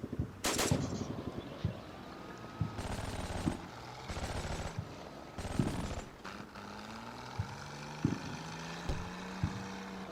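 Scattered gunshots in the Combat Mission Battle for Normandy war game: a few sharp reports and short bursts spaced over several seconds, mid-distance, over an engine-like drone.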